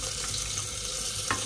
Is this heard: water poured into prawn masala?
yes